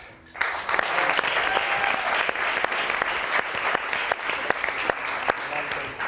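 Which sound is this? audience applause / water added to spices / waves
audience applause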